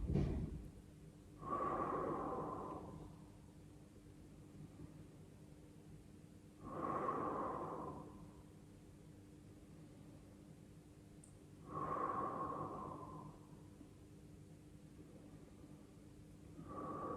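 Slow, deep breaths during a Tibetan gymnastics exercise: three long, forceful exhalations spaced several seconds apart, close and breathy, with quiet pauses between.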